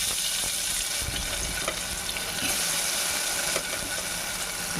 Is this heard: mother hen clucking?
no